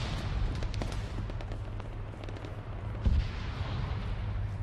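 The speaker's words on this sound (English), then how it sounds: "Grenades coming in." Grenades burst in Arma 3 combat, low muffled booms rumbling at a distance amid a steady background of gunfire, one heavier thud standing out near the end.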